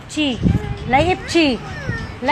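A cat meows several times in rising and falling calls, close by and fairly loud, with people talking over and between the meows during winter in Kuwait.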